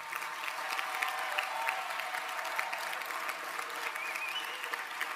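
An audience at a political party's autumn university event gives sustained applause for comrades in Brazil, a dense, even roar of many hands clapping, moderately loud and continuous, with no voices breaking through.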